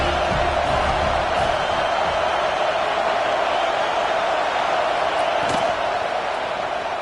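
Steady roar of a college football stadium crowd at a game, a dense continuous wash of massed voices holding loud and even throughout, with a few faint thuds and shouts poking through.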